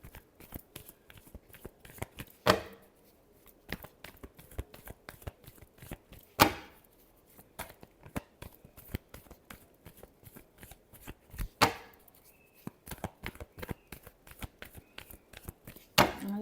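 Tarot cards shuffled by hand, a dense, continuous riffle of soft papery flicks and slaps with a few louder bursts, close and fairly quiet, without talk.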